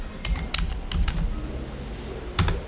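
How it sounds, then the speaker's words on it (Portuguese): Typing on a computer keyboard, close and fairly quiet, with irregular clusters of light key clicks and a short pause before a final pair of taps. "aqui eu vou digitar host 2 pontos, aí eu vou colocar teste php"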